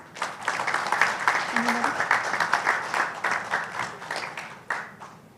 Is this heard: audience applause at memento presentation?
yes